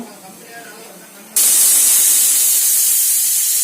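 A pressure cooker on a stove, cooking chilli sauce ingredients, suddenly releases its whistle: a loud, harsh, sustained steam hiss that bursts in after a quieter stretch and holds steady to the end.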